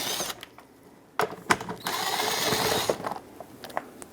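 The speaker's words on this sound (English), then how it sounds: "Use a 10mm socket or a flathead screwdriver and remove the two screws that hold the plate bracket on the" Screws being backed out of a license plate bracket on a 2003-2009 Dodge Ram 2500 HD with a 10mm socket or flathead screwdriver, close mechanical clicks and a sustained whirring burst, with a few sharp knocks.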